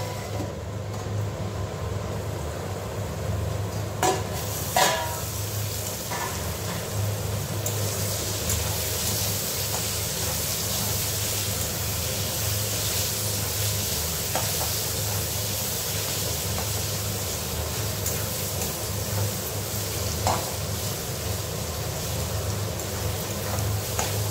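Food fries in a pan with a long, steady sizzling hiss, broken by a few faint clinks and taps.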